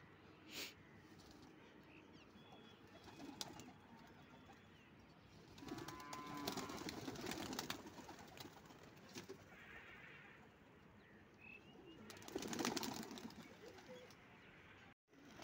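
Domestic pigeons softly coo from a loft where the birds are kept and a hen has laid an egg. Faint, low murmuring calls come in a few bursts over quiet background rustling.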